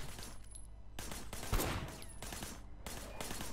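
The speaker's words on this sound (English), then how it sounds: "I want you to put some bullets in a few things" Bursts of automatic gunfire in the action game Sleeping Dogs, several rapid volleys separated by short pauses, loud and close with a heavier thump in the middle.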